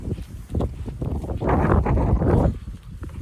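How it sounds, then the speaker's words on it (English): Strong wind gusting across the open hillside at the Windy Gap, a close, heavy rumbling buffet of air against the microphone that swells and peaks midway, with no talking. "So, it's so windy."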